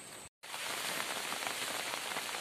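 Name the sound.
rain falling under a clear blue sky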